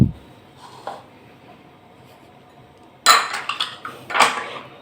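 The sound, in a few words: putting ingredients into a mixing bowl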